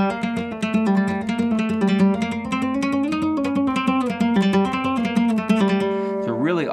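Rapid, even plucked notes on a single nylon guitar string, played with the gypsy jazz alzapua thumb technique in a steady flowing rhythm, close and clear, with a ringing finish.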